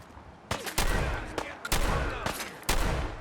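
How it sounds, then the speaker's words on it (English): Shotgun blasts fired in Fallout 4's Far Harbor: five loud, sharp booms, one about every half second to second, each with a broad crack and a short decaying tail, alone with no talking. "Let's try out that new shotgun."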